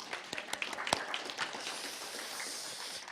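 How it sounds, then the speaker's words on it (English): Applause at an annual meeting opens with a few scattered, sharp claps and then swells into a steady, moderate patter of clapping from the gathered audience. "We have to applaud for that."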